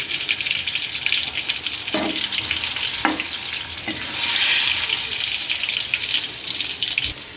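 Hot oil poured over browned onions for Hyderabadi mutton biryani, giving a steady broadband sizzle throughout with a few sharp clatters of utensils, close and moderately loud, with no talking.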